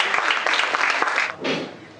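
Audience applause at a mushaira poetry gathering, a steady wash of clapping for about a second and a half that tails off into a softer, quieter patter near the end, with no voices over it.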